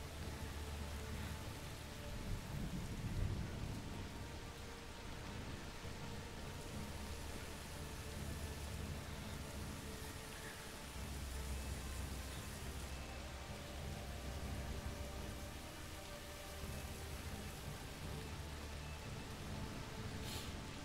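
Rain falls steadily on a road in the video game A Plague Tale Requiem, a dense, even patter that continues alone and unbroken throughout, with occasional louder drops.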